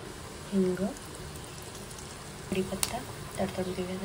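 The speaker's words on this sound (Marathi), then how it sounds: "कढीपत्ता तडतडू देऊया जरा." Cumin, asafoetida and curry leaves crackle and sizzle in hot oil for a tempering, a soft steady hiss with occasional pops, under intermittent talk.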